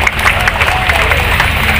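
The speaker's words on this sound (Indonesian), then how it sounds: "Tepuk tangan untuk kita semua." A crowd at a political campaign declaration applauds, steady dense clapping filling the short moment, with faint voices mixed in.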